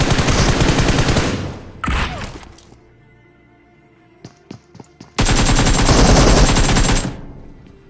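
Loud bursts of automatic gunfire from a Free Fire battle royale match, two long dense volleys framing a quieter stretch of scattered single shots and thuds.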